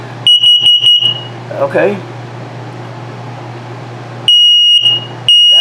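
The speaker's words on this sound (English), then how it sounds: "This device here is the carbon monoxide and LP gas detector." The carbon monoxide and LP gas detector in a 2020 Starcraft Autumn Ridge 32BHS RV runs its self-test with piercing, high electronic beeps. Four quick pulses are followed by a pause with a brief spoken word, then two longer, loud beeps over a steady hum.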